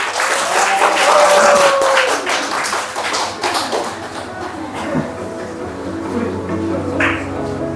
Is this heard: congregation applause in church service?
yes